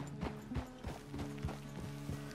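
Horse hooves clip-clopping in the video game Red Dead Redemption 2, a steady walking rhythm of about six or seven evenly spaced hoofbeats, close and clear.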